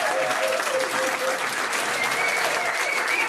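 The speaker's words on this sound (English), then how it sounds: "Give them a round of applause for trying" Pub quiz crowd at The Granta giving a team a round of applause, with steady, loud clapping filling the room and faint voices and cheers underneath.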